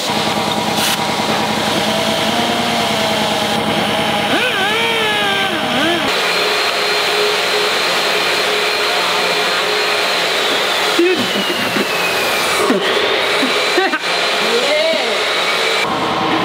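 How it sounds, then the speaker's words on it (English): A high-pitched rotary potting tool whines continuously while widening a small hole in a custom 2JZ ignition coil cover, its loud motor tone dipping and rising as the bit bites in. "I'm gonna be using a potting tool to make it bigger."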